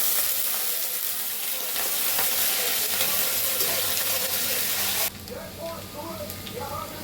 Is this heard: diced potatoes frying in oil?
yes